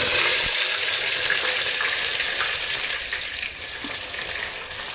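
Onions dropped into hot oil and frying, a steady broadband sizzle that starts strong and slowly eases, heard close up with no talking.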